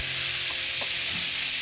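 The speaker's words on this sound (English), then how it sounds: "And then we stir. Mix everything together." Beef curry with chilies being stirred in a pot, a dense constant sizzle with a few soft scraping strokes of the spoon, close and fairly loud.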